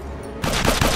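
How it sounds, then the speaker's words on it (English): Bullets hitting in a war scene from a superhero film, a sudden loud fusillade of close, rapid impacts that begins partway through and keeps going to the end. "Look at the size of the bloody bullets that are hitting them there."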